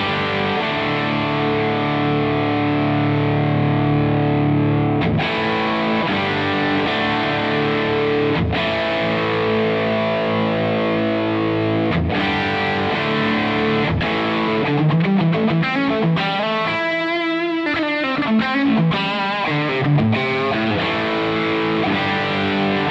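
Electric guitar played through the drive channel of an Amplified Nation Wonderland Overdrive amp, loud sustained distorted chords and riffs with a stretch of heavily gain-saturated bends and feedback-like notes, no talking.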